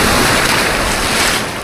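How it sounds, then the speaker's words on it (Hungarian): Large ocean waves heard from a sightseeing flight over a coastal island, a loud, steady, full roar of surf and rushing air with no breaks and no voices. "de most hatalmasak a hullámok"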